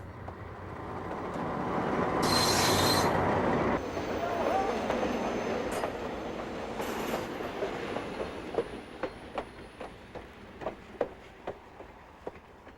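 A train rumbles past on a museum's working railroad, swelling in loudness, then fades into a rhythmic clickety-clack of wheels crossing rail joints.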